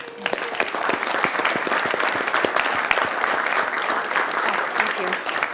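An employee recognition awards ceremony audience gives a sustained round of applause, dense clapping from a large crowd that stays loud and even from start to finish.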